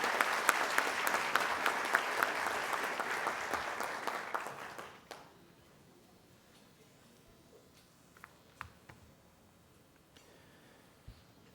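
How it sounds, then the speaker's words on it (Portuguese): A crowd applauds the Guarda Civil Metropolitana band at a civic honors ceremony in São Paulo. Dense, steady clapping fills the first few seconds, then stops abruptly, leaving a quiet hall with a few scattered clicks. "Uma salva de palmas à banda da Guarda Civil Metropolitana."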